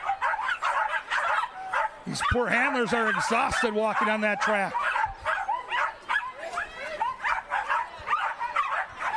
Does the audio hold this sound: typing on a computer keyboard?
no